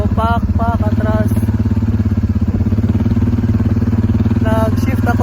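A quad bike reverses back and forth on a New Zealand dairy farm. Its engine makes a loud, close, steady pulsing putter throughout, with someone speaking over it in short bursts.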